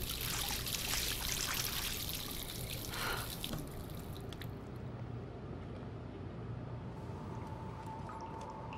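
Faucet water running in the video game Life is Strange, a steady broadband pour that is louder at first, then settles into a softer continuous stream.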